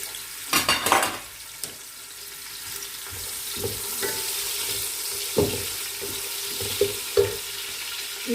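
Half a cup of oil with a medium chopped onion frying toward golden brown for pulao biryani, a soft steady sizzle broken by a few sharp pan and spoon clatters as it is stirred, with no one speaking.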